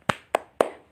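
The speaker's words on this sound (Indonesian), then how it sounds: "kita ikutin tepuk semangat lewat online dulu ya" Three sharp, evenly spaced hand claps ring out close and loud, in the rhythm of an Indonesian 'tepuk semangat' spirit clap, with a fourth just beginning at the end and no talk over them.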